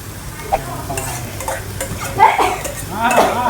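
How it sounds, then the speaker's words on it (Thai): Camel meat stir-fried with curry paste sizzles in a pan, with scraping and clinking of a utensil against metal and a few louder stirring bursts, close by and without speech. "เนื้ออูด ลงไป รวนคั่วกับ พริกแกงเลยนะครับ"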